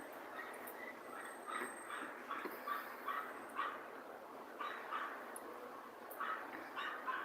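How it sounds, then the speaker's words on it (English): A small yappy dog barks and whimpers in repeated short bursts, somewhat distant and thin, over steady background noise with no talking. "And got a yappy bloody dog."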